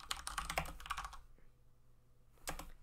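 Typing on a computer keyboard while entering a name, heard as a quick burst of clicking keystrokes, then a pause and a brief second flurry of keys, close and fairly quiet with no talking.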